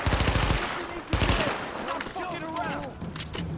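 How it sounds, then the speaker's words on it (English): MP5 submachine gun bursts in The Division, two loud rapid-fire volleys up close, followed by quieter combat noise and a voice speaking underneath. "shoot him in the face with the MP5"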